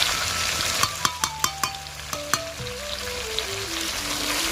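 Broiler chicken meat and skin stir-fried in a pan give a steady, close sizzle throughout, with a series of sharp clicks from stirring in the first half and a faint falling tonal pattern in the background.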